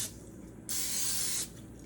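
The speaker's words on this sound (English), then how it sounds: "So what I do is I spray olive oil" A single steady hiss of an olive oil aerosol cooking spray lasting under a second, close and fairly loud, with quiet room tone before and after.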